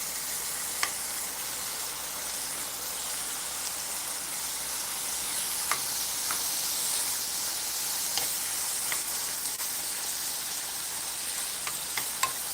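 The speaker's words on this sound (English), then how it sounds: "Almost like a little stir fry." Food stir-frying in a steel pan with butter, salt and garlic powder, a steady close sizzle and hiss running throughout with occasional sharp ticks and pops, no voices.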